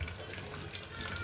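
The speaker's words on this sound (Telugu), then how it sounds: "ఈ తాలింపు వేగుతుంది కదండి" A tempering (talimpu) of spices frying in oil in a pan gives a steady, faint hiss and fine crackle, continuous and even throughout the short moment.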